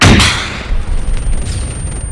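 A sharp, loud rocket blast in the Arma 3 video game hits at once and trails into a long, rumbling decay.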